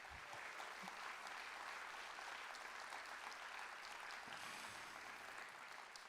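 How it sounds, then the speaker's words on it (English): A theatre audience at a Broadway show applauds in a continuous, evenly textured roar of clapping, heard faint and distant. "it is so nice to hear applause"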